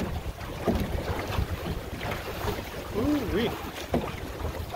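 Gusty wind buffets the microphone aboard a Drascombe Lugger sailboat on Big Rideau Lake, a steady rushing roar with water sounds beneath and a short exclamation from a voice.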